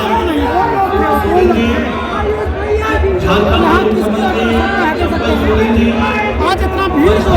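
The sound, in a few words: chattering crowd of rally workers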